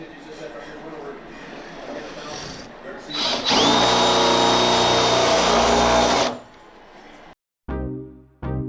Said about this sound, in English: basically drill this out until the size we need